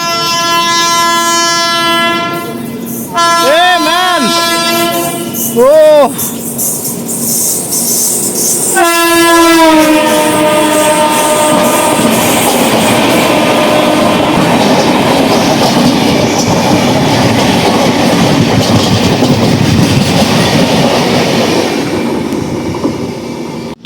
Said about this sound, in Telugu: ఏదో ట్రైన్ వెళ్తుంది.